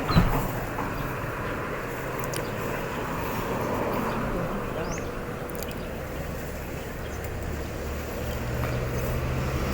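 A train rolls past with a steady, broad rumble and rattle that holds at even loudness for the whole stretch, a few faint clanks riding on top, and nobody speaks.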